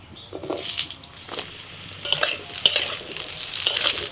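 Potatoes go into hot mustard oil in a wok and fry with an irregular sizzle, broken by scraping stir strokes and a few utensil clinks against the pan, close and steady with no talking.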